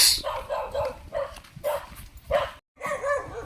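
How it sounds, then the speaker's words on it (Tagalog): A dog on a village street in San Isidro, Goa, Camarines Sur, barks in several short bursts at close range, with faint background noise between the barks. "Ayun, yung aso."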